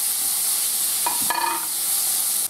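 Finely chopped onion and two garlic cloves with a pinch of salt frying gently in a covered pan, a steady soft sizzle and hiss with a brief utensil scrape partway through.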